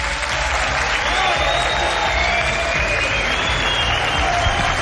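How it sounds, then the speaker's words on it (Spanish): Theatre audience at the Teatro Marín in Teruel breaking into loud, sustained applause, a dense wash of clapping from a full house that lasts the whole moment. "con un aplauso de todos vosotros."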